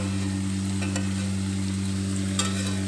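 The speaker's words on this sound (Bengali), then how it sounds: "লবণ দিয়ে আবারও একটু নেড়ে চেড়ে নিলাম।" Shrimp and arum stems fry in a pan while being stirred, a soft steady sizzle with faint scraping of the spoon, no voices.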